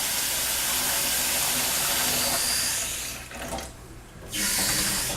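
Hot water running hard from a kitchen tap into metal cooking pans, a loud steady rushing gush that briefly drops away and then resumes at full strength.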